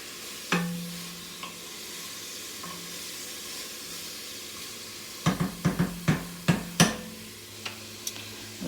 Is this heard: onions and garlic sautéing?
yes